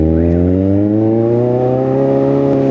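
A motorcycle engine revs hard and steadily on a full-load tune run, its note climbing smoothly and continuously, loud and close with no pauses.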